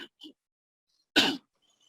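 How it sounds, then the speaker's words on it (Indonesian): A man clears his throat and coughs once, a short harsh burst close to the microphone, preceded by two faint brief vocal sounds, in an otherwise quiet church teaching setting. "agak batuk"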